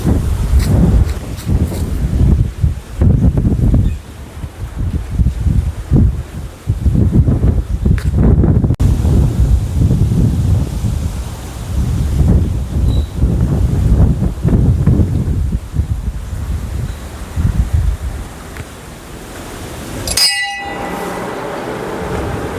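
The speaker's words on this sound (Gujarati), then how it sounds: "કેટલો પવન જુઓ કેટલો આવી રહ્યો છે" Strong wind gusting around a hilltop temple surrounded by green trees, buffeting the microphone in loud continuous roaring surges with brief lulls, and no voices.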